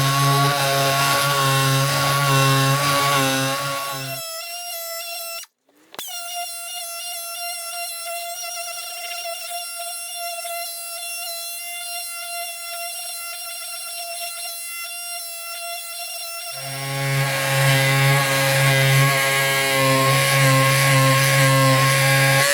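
A Parkside cordless multi-tool strips paint from a wooden board with a loud, steady buzzing whine. It drops out briefly, gives a short sharp click, runs at a lighter pitch for several seconds, then returns to full load.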